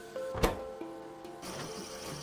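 Factory machines running in the video game Factorio hum and whir with an off-pitch, droning mechanical tone, steady and moderately faint with a few brief clicks and swells.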